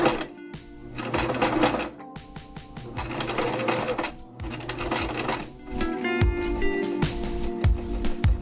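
A sewing machine stitches a pocket onto a sweater in close, rapid mechanical bursts of clattering needle strokes. Brief pauses and handling clicks separate the bursts.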